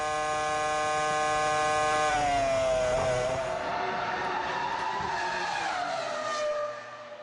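Formula 1 race cars at the 2005 Japanese Grand Prix, loud high-revving engine howl with shifting harmonic pitch as cars pass close, a sharp downshift drop midway, fading at the end.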